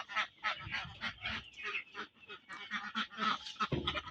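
Farm ducks call over and over in a dense, near, busy flock, with the quacks and honks overlapping one another nearly without pause.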